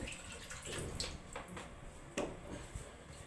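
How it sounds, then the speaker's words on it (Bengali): Water splashes and trickles over a stone grinding slab (shil) as it is rinsed, with a few louder sloshes and drips close by, no voices. "আমি শিলটা ধুয়ে নিচ্ছি।"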